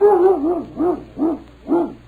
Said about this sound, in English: Listen, wasn't that a dog?